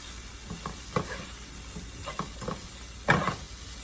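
Garlic is stirred into a hot frying pan where onions sizzle, with scraping strokes of the spoon and a steady crackle and hiss, closing in a louder stir near the end.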